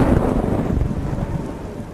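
Thunder rumbles low beneath a dense wash of monsoon rain at a MotoGP race in Indonesia, the roar fading slightly toward the end.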